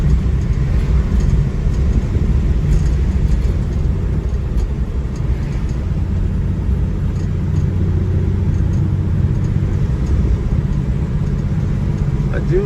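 Inside a 1961 Ford Falcon Futura on the road, a loud, steady low engine and road rumble runs throughout the interior, with no voice standing out over it.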